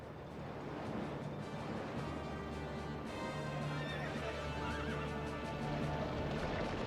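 Horses pulling pharaoh's chariots in pursuit: steady galloping hoofbeats and whinnies under a dense, loud, continuous wash of rumbling noise with no gaps.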